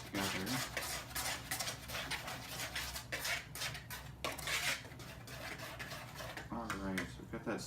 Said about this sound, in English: Just go ahead and whisk that together.